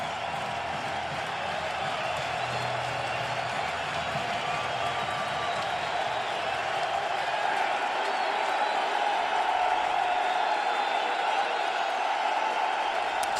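Phillies home crowd at the 2010 NLDS Game 1 against the Reds, second inning, roaring steadily and loudly throughout, a dense sustained cheer filling the ballpark without any break.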